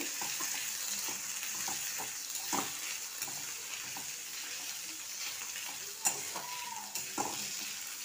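Chopped ginger fries in a pan with a soft, steady sizzle, punctuated by repeated spatula scrapes and taps against the pan, heard close up and without speech.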